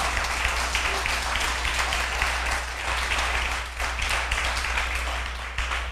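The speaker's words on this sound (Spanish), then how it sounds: "Dale un aplauso al Señor." A church congregation claps together in a dense, steady burst of applause, loud and continuous throughout, over a low constant hum.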